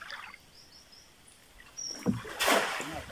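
Riquirraque fish released back into the water make a single brief splash near the end, after a quiet stretch with faint bird chirps in the background.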